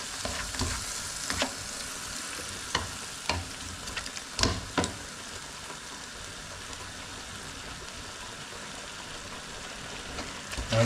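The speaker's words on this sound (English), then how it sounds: "I'm just going to let this cook in and simmer down for about 2 minutes." A subscription meal kit dish simmers and sizzles in a pan, a continuous moderate bubbling hiss punctuated by several sharp utensil knocks and stirring scrapes early on, then settling into steady frying.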